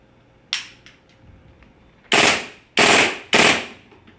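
A G&G SMC-9 gas blowback airsoft gun fires a short burst, then three loud, sharp full-auto bursts in quick succession, each a rapid rattle of close shots.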